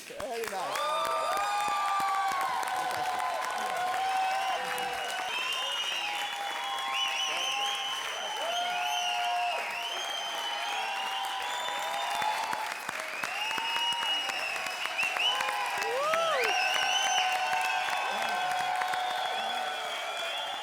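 Studio audience applause and clapping at a comedy show, a dense steady wash of many hands throughout, with scattered cheers and voices mixed in.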